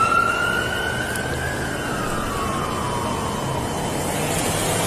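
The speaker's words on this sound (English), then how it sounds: "this ambulance goes by" An ambulance siren wails steadily as it passes by on a road, its pitch gliding downward while traffic rumble fills the background, with no talk.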